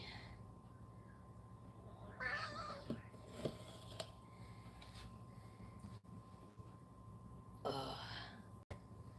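A cat meows close by, two drawn-out throaty cries separated by a few seconds over a quiet indoor background.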